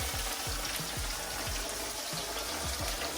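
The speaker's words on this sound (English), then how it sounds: "Now the moment of truth, the sizzle" Steady hiss of coated chicken frying in hot oil fills the clip, with dull low thumps scattered through it and no talking.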